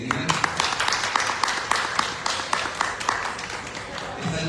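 An audience claps to welcome the speaker Roberto Carlos Pérez before an evening lecture, a dense crowd applause with quick, sharp claps lasting several seconds.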